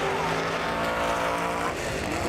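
Hellcat drag racing car launching off the line, a loud, dense engine roar with a harsh rasp and tire noise, heard briefly from nearby at the track.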